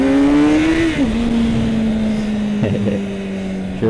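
A motorcycle engine revs loud and close during a wheelie. The steady tone dips sharply as the throttle eases, then drones on in a lower cruise with a brief clunk near the end.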